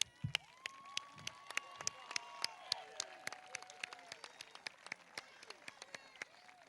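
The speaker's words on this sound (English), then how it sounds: "Now we can clap." At an 8th grade middle school graduation, the audience claps in a steady stream of sharp, distinct claps, fairly faint and distant, with voices talking over the applause.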